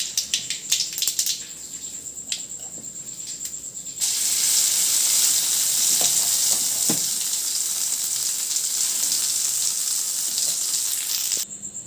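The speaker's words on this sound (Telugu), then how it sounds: "మినపప్పు, పచ్చిమిర్చి వేసుకోవాలి తాలింపులోకి" Urad dal and green chillies crackle in hot oil for a tempering for ridge gourd chutney, a sharp scattering of pops at first, then a loud, dense, steady sizzle that holds for several seconds before dropping back.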